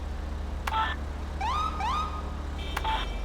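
Two quick upward siren chirps in close succession, fairly loud and near, with short electronic beeps before and after.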